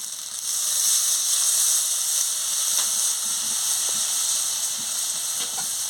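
Water poured into a hot pan of potato and pointed gourd in poppy-seed paste bursts into a loud, steady hiss of sizzling steam. It stays close and continuous, with a few faint clinks underneath.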